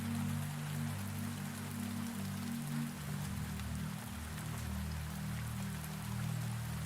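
Steady rain falls on a glass-roofed greenhouse at midnight, a dense, even patter with a low rumbling undertone that continues unbroken at moderate level, with no voices.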